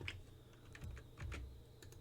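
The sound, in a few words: pressing keys on a computer keyboard in CAD software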